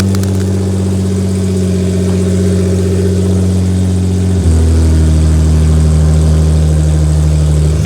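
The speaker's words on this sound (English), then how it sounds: "There goes that loud ass fuel pump." A Nissan GTR tuned toward 1500 wheel horsepower runs with a loud whining fuel pump over a steady droning engine, which steps to a lower, heavier rumble partway through.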